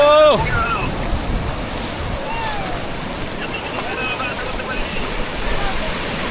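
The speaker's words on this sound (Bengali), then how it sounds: "আর এই দেখুন ঢেউ, সেই লেভেলে কিন্তু ঢেউ দিচ্ছে বকখালি বিচে" Sea waves breaking on Bakkhali beach in a loud, continuous rushing wash with gusts of wind buffeting the microphone, a short whistle-like tone at the start.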